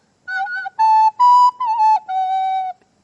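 A song flute (recorder), the simple woodwind with finger holes, plays a short phrase of about five clear, steady high notes separated by brief gaps, heard alone with no voices.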